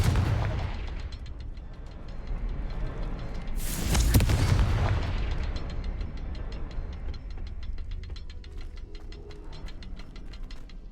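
Confringo blasting-spell explosions from Hogwarts Legacy, with one loud booming blast near the middle, surrounded by rumbling and rapid ticking crackles that fade afterward.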